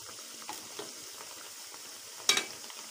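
Semolina (rava) sweet pieces frying in oil, browning lightly, give a soft steady crackle with a couple of brief louder spatters or stirs; no talking.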